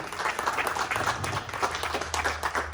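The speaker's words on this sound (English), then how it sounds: "let's give both of them a big round of applause for all their time and energy" Audience applause for a city champion and runner-up at a championship interview, a steady wash of many hands clapping throughout, moderately loud with a low hum underneath.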